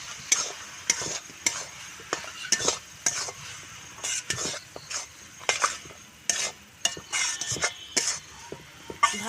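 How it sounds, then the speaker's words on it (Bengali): A rice flour and water mixture being stirred in a cooking pan on the stove, with repeated scraping strokes and light clinks of a utensil against the pan in an irregular rhythm, up close, with a soft sizzle underneath and no voices. "ভালোভাবে এখন নেড়ে নেব।"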